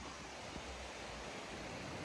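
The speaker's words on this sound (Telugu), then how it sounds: "ఇక్కడ వాటర్ కూడా ఫ్లో, సైడ్ నుంచి వాటర్ ఫ్లో." Floodwater rushes under the Moosarambagh bridge in Hyderabad, a steady, dense broadband roar of flowing water with no pauses and no voices.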